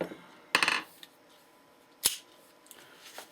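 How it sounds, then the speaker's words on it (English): A small plastic hammer taps on a Lyman Plains black-powder pistol during cleaning, giving a few sharp, close clicks and knocks separated by quiet pauses. "Nice little plastic hammer for that."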